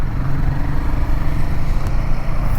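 A Royal Enfield Himalayan 450 motorcycle with a 450 cc engine, still being run in, heard from the rider's position as a steady, moderately loud engine drone with low rumble and wind.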